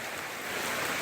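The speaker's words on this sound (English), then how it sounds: "It is literally pouring like a huge tropical storm right now." Heavy tropical-storm rain pours down in the woods around a hut, a dense, steady broadband hiss with no break and no voices.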